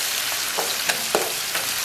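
Minced pork stir-frying with chopped scallion, ginger and garlic in moderately hot oil, a steady close sizzle with a few soft scrapes of stirring.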